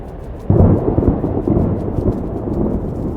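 A thunderstorm in Life is Strange Double Exposure: loud thunder cracks and rolls at half a second and again at one and a half seconds over steady heavy rain, with no voices.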